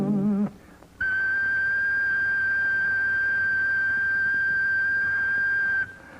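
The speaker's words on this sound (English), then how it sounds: "I'm a factory whistle that shrieks out at noon." A sound-effects factory whistle shrieks out as a single sustained, steady high tone lasting about five seconds, loud and alone, starting and cutting off abruptly.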